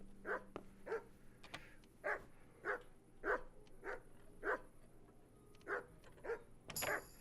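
A dog barks repeatedly in Kingdom Come: Deliverance, roughly a dozen evenly spaced barks in a steady rhythm, fairly clear with no talking.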